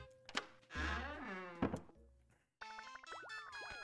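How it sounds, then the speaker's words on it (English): Cartoonish thunks, squeaky boings and a chiming jingle from Animal Crossing as cockroaches are swatted, a few quick hits followed by a bright musical flourish. "I just killed cockroaches."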